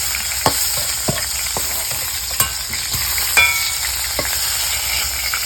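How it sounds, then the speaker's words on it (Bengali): Meat frying in a pan in a village kitchen, a continuous hiss of sizzling oil with sharp metallic clacks of a spatula stirring at irregular intervals, close and fairly loud, no speech. "দেখো আমার মাংসগুলো ভাজা হয়ে গেল"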